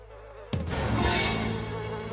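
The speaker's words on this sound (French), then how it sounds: "peut-être que les abeilles sont de bonne humeur, elles." A dense cartoon bee buzz starts abruptly and keeps droning steadily, close and fairly loud, like a swarm of bees humming around.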